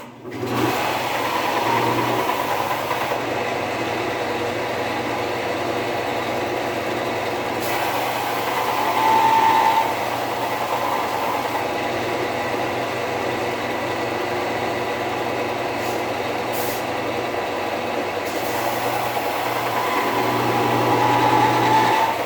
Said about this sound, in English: come over here to my sander, which you can kind of see there, and I'm going to square that up